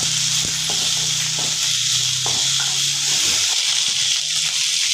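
Onions and tomato fry in a pan for a potato bhaji, giving a steady, even sizzling hiss throughout with occasional soft stirring clicks and low background hum.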